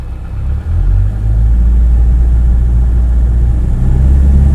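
Avro Vulcan XM655 jet bomber engines at full takeoff power on runway 23: a loud, steady, deep roar that holds unbroken, with only a brief dip early on.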